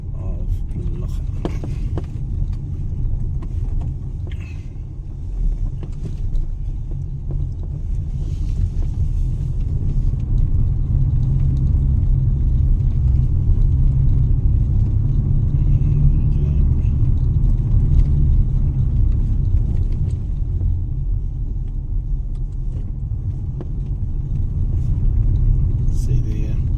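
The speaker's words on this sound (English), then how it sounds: "driving around the back streets" A car drives slowly through the narrow back streets of Loja, an Andalusian town, its low engine rumble steady and close inside the cabin for the whole stretch, with occasional faint voices.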